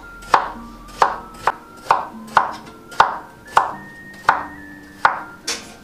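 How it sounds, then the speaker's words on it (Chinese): A knife chops a peeled luffa gourd into chunks on a cutting board, giving about ten sharp, evenly spaced chops at close range with no talk. "准备一个丝瓜，削去外皮， 洗干净以后切成滚刀块"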